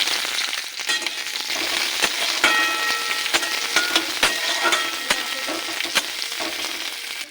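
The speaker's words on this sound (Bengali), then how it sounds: "দিয়ে দেবো পেঁয়াজ কুচি" Chopped onion hits hot oil seasoned with black cumin seeds in a wok: a loud, steady frying sizzle runs throughout, dotted with sharp crackles and pops, with no voices.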